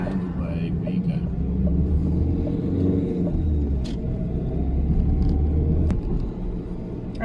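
A car pulling away from a junction with a steady, loud low engine rumble and road noise heard from inside the cabin, continuous for several seconds.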